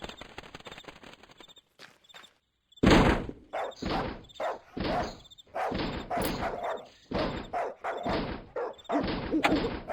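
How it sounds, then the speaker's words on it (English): A dog barks in the point-and-click game Darkestville Castle, with a series of loud, close barks and thumps in irregular bursts separated by short pauses. "Are you barking?"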